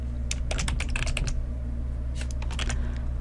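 Fingers type on a computer keyboard while entering Excel VBA code, with quick bursts of close clicking keystrokes, a short pause, then another burst over a steady background hum.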